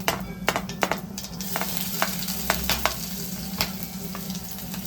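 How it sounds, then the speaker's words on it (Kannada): Cumin seeds and garlic sizzle steadily in hot oil, a close continuous frying crackle with scattered sharp pops and occasional stirring clicks, and no one speaking. "ಎಣ್ಣೆ ಬಿಸಿ ಆಗಿದೆ. ಇವಾಗ ಅರ್ಧ ಸ್ಪೂನಷ್ಟು ಜೀರಿಗೆ ಹಾಕ್ತಿದ್ದೀನಿ"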